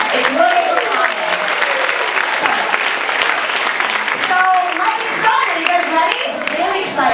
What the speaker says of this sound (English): I hope you guys are ready to applaud the hell out of yourselves tonight.